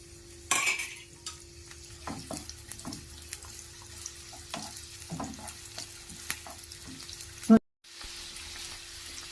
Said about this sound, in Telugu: తర్వాత ఒక మీడియం సైజు ఉల్లిపాయ ఇలా సన్నగా తరుక్కొని తరుక్కొని ఫ్రై చేసుకోవాలి